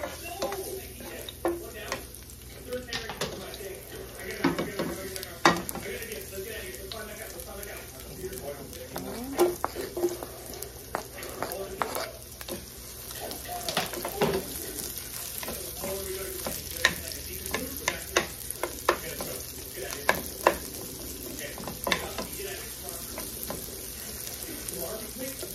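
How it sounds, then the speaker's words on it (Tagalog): Garlic sautéing in rendered pork fat for adobong sitaw, a steady crackling sizzle under repeated scraping and clinking stirs in a pan, close and moderately loud throughout. "gisa na natin yung ating bawang"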